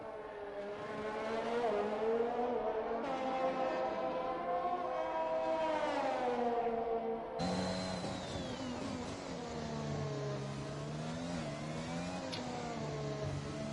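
Race car engine screaming through a hot lap at Abu Dhabi, a loud sustained whine rising and falling with gear changes and throttle, ending in a sharp shift to a harsher higher pitch, no talk.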